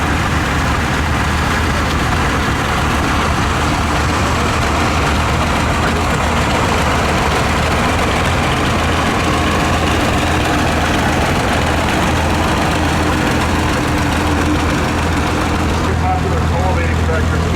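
A 1947 Model H tractor engine runs at an outdoor threshing show, a loud continuous low chugging drone that stays steady throughout, with a voice talking over it.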